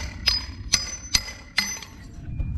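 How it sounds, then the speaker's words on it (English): A steel chisel strikes and pries at a steel pipe cover by a concrete pool, giving four sharp metallic clinks spaced about half a second apart, close and clear, with no talk. "I'm gonna grab a chisel and see if we can pop this steel cover off"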